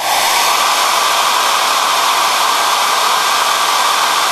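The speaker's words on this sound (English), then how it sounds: "now we can blow at this with the hairdryer" A hair dryer blows with a loud, steady rushing hiss that holds constant throughout, with no voices.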